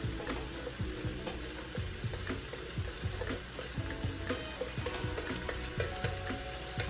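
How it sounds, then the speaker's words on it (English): Split pea soup stirred in a pot, a spoon scraping and swishing in a steady repeating rhythm over a soft bubbling simmer, close and moderately quiet throughout. "I'm going to stir it"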